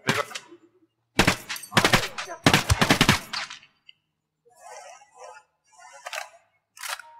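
Bursts of automatic gunfire in the video game Ghost Recon Wildlands during a co-op rescue mission, loud rapid volleys followed by fainter, more distant shots.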